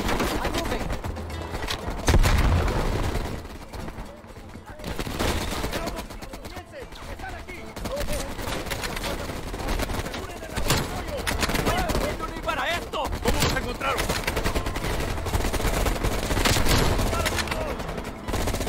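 Dense, continuous gunfire from Call of Duty Black Ops Cold War, with rapid automatic bursts and single shots layered over a constant noisy background throughout.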